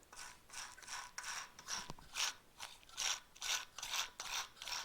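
A ratchet wrench fitted with an Allen key attachment loosens a bolt on an F6a engine, giving rapid pawl clicks in regular back-and-forth bursts, close up but fairly quiet.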